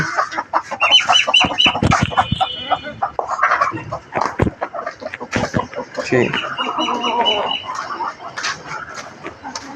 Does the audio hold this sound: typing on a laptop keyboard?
no